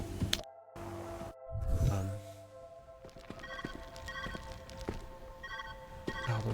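A telephone in the puzzle game Viewfinder rings in short repeated bursts amid clattering, footstep-like game sounds, fairly quiet and intermittent across the stretch.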